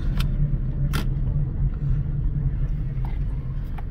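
2001–2005 Honda Civic with a replaced ECM driving slowly on a test drive, a steady low engine and road rumble heard from inside the car, with a few brief clicks and knocks over the hum.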